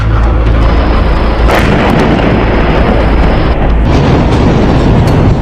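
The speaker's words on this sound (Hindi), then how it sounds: "अब आईडीएफ के एयर स्ट्राइक का आगे का वीडियो देखिए" IDF air strike explosions give a loud, sustained, rumbling roar of blasts that stays heavy and dense throughout, with a few sharper bursts breaking through.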